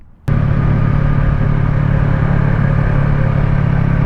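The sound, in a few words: Yamaha R3 motorcycle riding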